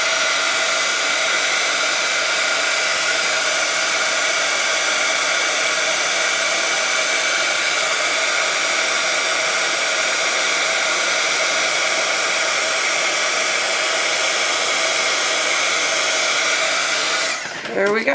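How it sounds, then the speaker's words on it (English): A heat gun melting embossing powder on a stamped craft medallion blows a loud, steady whooshing drone close by. It runs unbroken for about seventeen seconds, then cuts off with a brief clatter. "So now I'm going to run with my heat gun over where I emboss until it's nice and shiny."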